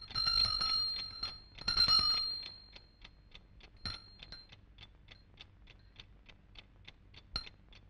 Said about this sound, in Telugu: చేతికి రాఖీ కట్టినట్టు ఈ గంట ఏమిటే?